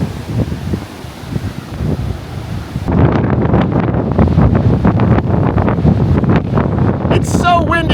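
Strong gusty wind blasting across the microphone along the Lake Erie shoreline, a loud continuous roar that surges heavier partway through, with a brief higher squeal near the end.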